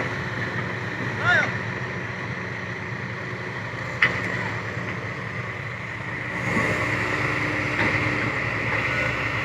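A loaded truck hauling tree stumps drones with a steady engine rumble, a few knocks and a rising push near the end, with voices talking over it.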